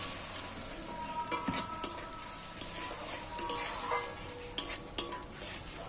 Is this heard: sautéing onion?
yes